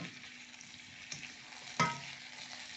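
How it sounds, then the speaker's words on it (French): Vegetables with crushed tomato cook gently in a pan with a soft, continuous sizzle and frying crackle, with one brief clink of a utensil partway through and no talk. "les légumes vont cuire tout doucement et tranquillement"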